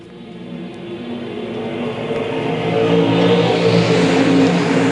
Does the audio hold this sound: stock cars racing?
yes